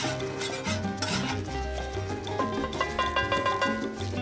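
A metal scraper pushes griddle grease off a Blackstone 22-inch griddle into a cast iron pan, giving close, steady rasping and stirring scrapes with light metallic clinks over a constant background hum.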